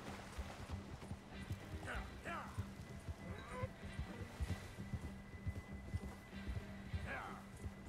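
Horse hooves galloping in the video game Red Dead Redemption 2, a rhythmic clip-clop throughout, with someone talking over the hoofbeats now and then.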